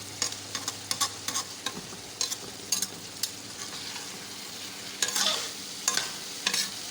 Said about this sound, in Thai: เมนูผัดบะเขือง่ายนะจ๊ะใส่หมูสับนะ